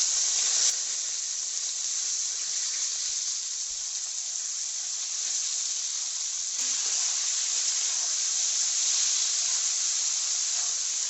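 Chopped pumpkin stalks fry with browned potatoes in a hot pan, giving a steady, bright hiss and sizzle that holds evenly throughout with only slight swells.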